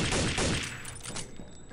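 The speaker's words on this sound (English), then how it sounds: "What is shooting me?" Video game gunfire in a rapid burst, loud and dense at first, then thinning into scattered shots with a lingering tail.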